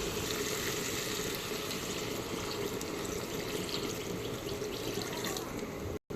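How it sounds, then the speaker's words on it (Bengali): Water poured into a pot of simmering meat curry, a continuous even gush and rush of liquid, fairly close, lasting several seconds before stopping abruptly at the end. "পাঁচ ছয় মিনিট কষিয়ে নেওয়ার পর পানি অ্যাড করব সামান্য পরিমাণে"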